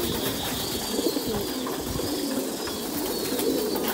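Thai Titan and American pigeons coo softly and repeatedly over a steady bed of background noise at a pigeon farm, with no voices present.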